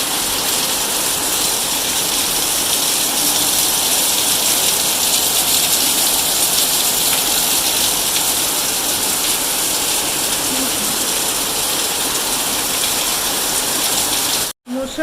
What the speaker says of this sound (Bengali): আওয়াজ শুনে নিশ্চয়ই বুঝতে পারছো, অনেক জোরে আওয়াজ হচ্ছে বৃষ্টির।